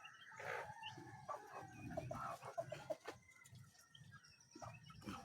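Pet chickens on a small backyard poultry pen around feeding time, with close clucking from several hens and a rooster's crow mixed in over a steady rural background, with no talking.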